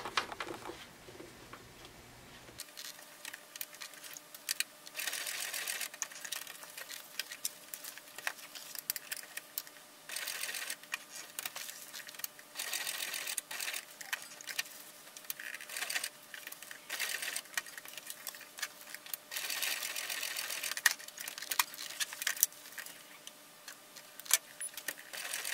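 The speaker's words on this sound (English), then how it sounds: "I'm going to sew an X through the box, just inside these pin markings on both straps" A sewing machine stitches a box and an X across the straps of a Huxley bag, running in repeated rapid, chattering bursts separated by short pauses, moderately close and alone without talk.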